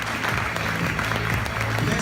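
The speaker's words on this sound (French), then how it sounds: "Je voudrais qu'on les applaudisse bien fort aussi" Theatre audience applause at a short-film festival awards ceremony, a dense continuous clapping wash from a large crowd, with a voice speaking over it.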